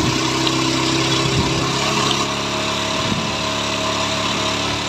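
A TVS Apache BS4 motorcycle engine being tuned for a misfire problem revs hard at high RPM, a loud continuous whining roar heard close up without speech.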